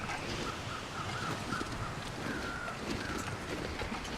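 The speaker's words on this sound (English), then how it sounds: "I hear the crows over and over again" Crows cawing in the survival video game The Long Dark, a few distant caws repeating over a steady windy outdoor ambience.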